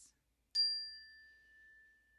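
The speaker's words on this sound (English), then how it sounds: "just begin to hear the sound of the bell" A single meditation bell struck once during a mindfulness session, a bright metallic ding that rings on with a long, steadily fading tone in quiet surroundings.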